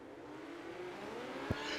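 Midget race cars at the Chili Bowl roar as the race gets under way, a steady engine drone building toward the end, with a brief sharp knock near the close.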